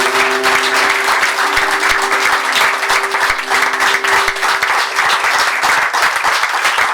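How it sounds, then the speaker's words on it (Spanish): A church congregation at a Sunday service breaks into strong, steady applause that fills the room for about seven seconds, with a faint sustained tone running beneath the clapping. "¿Usted un fuerte aplauso al Señor?"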